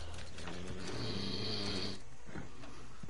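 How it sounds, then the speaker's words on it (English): Snoring from a character in a PS4 video game is steady and loud, with a rough, droning, ratchety texture that continues for about two seconds and then gives way to quieter game sound. "my dad's snoring too loud"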